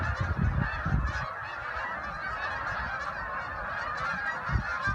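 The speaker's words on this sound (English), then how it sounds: "Mid-experiment, we got the migration over here. Look at all the geese." A flock of migrating geese honks continuously overhead outdoors, a busy chorus of overlapping calls holding steady at moderate volume.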